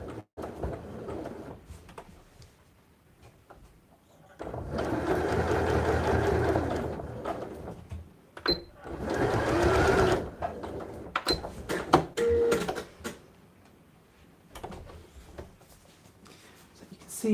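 Sewing machine stitching a Sew and Sow side pouch, two runs of steady mechanical whirring with a pause between, close, with a voice talking around them.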